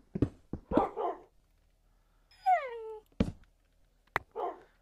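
A Minecraft tamed dog gives a few short, sharp barks and a rising whine, spaced out across quiet gaps in the game audio.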